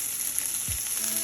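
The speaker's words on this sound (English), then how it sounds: "Listen to the sizzle." Seared broccoli steaks sizzle in a hot pan, a steady close, bright frying hiss filling the whole moment, with a faint low knock partway through and no talk.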